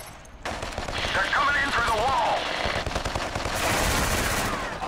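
Bursts of automatic rifle fire in a PS2 first-person shooter, sustained loud rattling shots with a brief gap, heard alongside game sounds and some voice.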